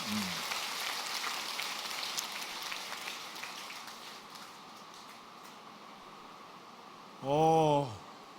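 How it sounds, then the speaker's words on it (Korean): Steady heavy summer rain hisses loudly at first, easing slightly later; near the end a brief tonal voice or sound rises over the downpour. "너무 빗소리가 커가지고 그래도 들리시나요?"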